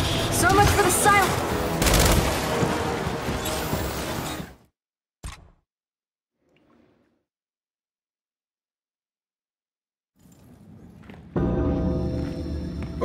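Heavy gunfire in the video game Gears 5 plays as dense, loud, rapid bursts, drops into near silence, then returns with a fresh volley at the end.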